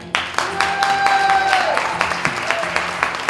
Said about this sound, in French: j'aimerais qu'on applaudisse, mesdames, messieurs, Lily